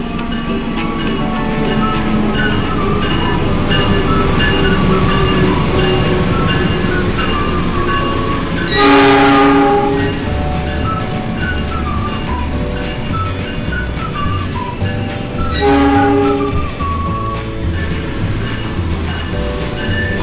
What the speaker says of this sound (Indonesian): ini mau ada 2 kereta yang masuk nih